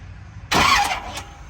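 A starter briefly cranks over an engine fitted with hydraulic roller lifters while the valves are being adjusted. It gives one short, loud churning burst that whirs and then fades within a second, close by, with nobody talking.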